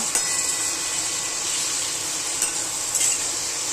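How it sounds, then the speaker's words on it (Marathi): Masala frying in hot oil over a high flame for a prawn curry, a steady close hiss of sizzling with a few brief louder crackles and spatters, no talking. "बघा हे आहे ना छान असे तेलामध्ये भाजून घ्यायचे"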